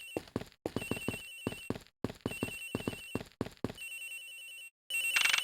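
A cell phone rings inside the video game Ace Attorney Investigations, a loud electronic trill in quick repeated bursts with short pauses, ending in a brighter sustained chime, with no talking.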